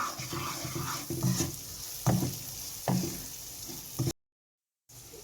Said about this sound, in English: Now stir it well